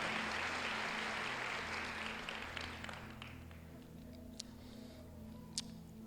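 A church congregation applauds, the clapping fairly distant and fading away after a few seconds over a steady low hum, leaving a quiet room with a couple of sharp isolated clicks.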